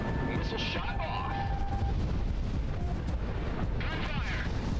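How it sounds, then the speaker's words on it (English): Rapid bursts of gunfire and booming shots in the video game Project Wingman crackle over a dense, loud background of game noise and music. "Gunfire!"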